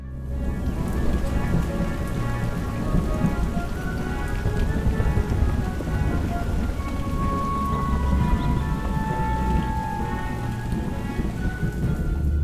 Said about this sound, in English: It's raining down on him. It's thunder.